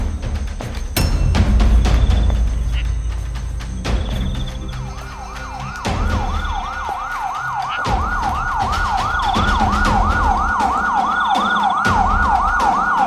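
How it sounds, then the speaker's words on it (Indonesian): An ambulance siren in an animated cartoon wails in a steady, repeating up-down sweep, rising in loudness and holding as it nears, set against street and traffic noise with a few knocks and clatters before it begins. "Ada ambulan di belakang nih."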